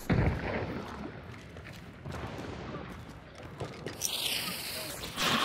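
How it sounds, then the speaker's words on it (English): Gunfire in the video game Hunt: Showdown, with several muffled, distant-sounding shots and booms scattered across the clip while players talk over them. "Someone shooting?"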